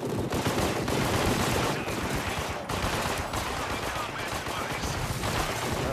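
Combat device firing in the video game After the Fall, a dense, continuous burst of rapid automatic gunfire that stays loud and close for several seconds with only brief dips.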